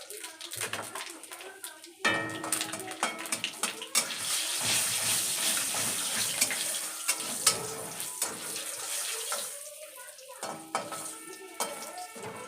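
Dried red chilli, bay leaf and five-spice (panch phoron) tempering in hot oil for a mixed vegetable and spinach curry: a steady close sizzle and crackle that swells after the spices drop in, with occasional clinks of a utensil.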